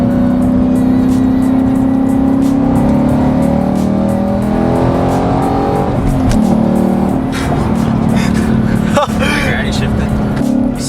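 Car engine revving and roaring steadily alongside another car in a street race, with a 5.0 Mustang nearby; continuous loud engine drone with shifting pitch, under people talking excitedly in the car.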